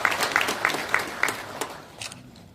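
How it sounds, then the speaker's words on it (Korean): Applause from an audience at a Korean political event honoring a National Assembly member, a full round of clapping with a few sharp claps standing out, fading away toward the end with no talk. "다시 한번 유기용 국회의원께 큰 박수 부탁드립니다."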